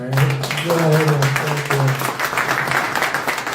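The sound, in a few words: audience applause at a live investment meet and greet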